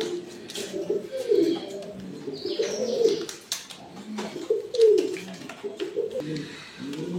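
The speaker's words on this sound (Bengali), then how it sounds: "এখানে একজোড়া নতুন কবুতর আছে" A group of pigeons at a farm coo close by in repeated throaty, bubbling phrases that rise and fall, several birds overlapping, with faint rustling between calls.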